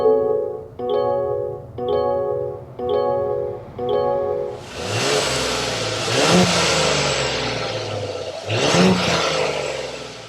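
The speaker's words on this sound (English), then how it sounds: "We need to go inside this eSkyActiv G so you can hear that exhaust note." A 2024 Mazda CX-90 eSkyActiv G engine heard from inside the cabin: a few short rhythmic blips, then a strong rising rev with a broad exhaust roar, a brief dip and a second surge. No talking.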